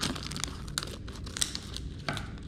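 A plastic candy package crinkles and rustles up close as it is snipped open with scissors, a busy run of short crackles and crisp snips.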